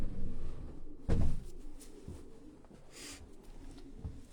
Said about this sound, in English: So while we're looking at these pigeons